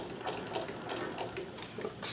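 Necchi BU NOVA sewing machine top stitching a shirt cuff, a close, steady rapid ticking hum of the needle mechanism running without pause.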